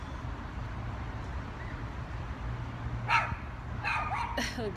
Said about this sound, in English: The doggy.